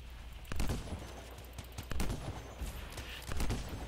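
Rapid gunfire bursts in the video game Anthem during a firefight, sharp repeated shots in several clusters over a steady noisy backdrop.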